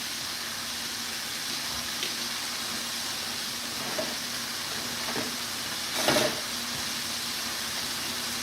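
Bell peppers rinsed under a running kitchen tap, a steady faint water hiss with a few soft splashes and one brief louder gush near the end, no voices.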